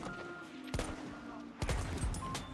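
Two sharp Mars pistol shots ring out in Battlefield 1, spaced about a second apart, each a loud close crack with brief decay over quiet background.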